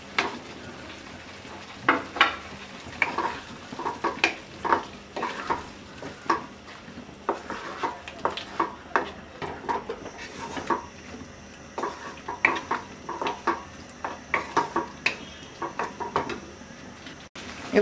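Potatoes being stirred in a pan while making spinach and potato curry, with a spoon scraping and clinking repeatedly in an irregular rhythm over a faint, steady frying sizzle, close and moderately loud.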